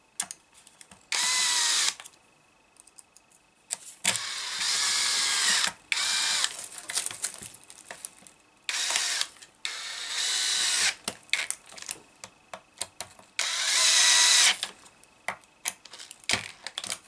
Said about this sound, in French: Là, on va serrer en bas et on va voir si ça reste libre.